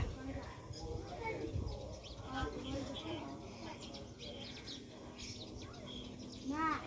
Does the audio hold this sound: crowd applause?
no